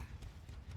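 Horse hooves from the horse perk in Dead by Daylight clip-clop in a quick, steady rhythm, loud and close, with no talking.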